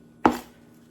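A single knife chop through a pile of greens on a cutting board, one short close thud with a quick fading tail, otherwise quiet.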